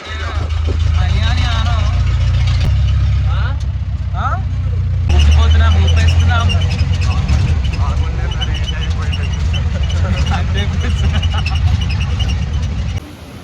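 A jeep bounces along a rough road toward a waterfall in Chikkamagaluru, its engine a loud, steady low rumble throughout, with voices and other sounds layered over it.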